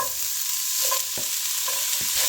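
Two medium onions, finely chopped, frying in about a tablespoon of oil in a pan, a loud steady sizzle with several spatula scrapes and taps as they are stirred.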